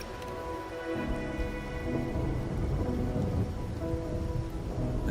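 Rainfall in the game Wuthering Waves, a steady wash of rain on surfaces with low rumbling underneath and faint tonal music, continuous and without voices.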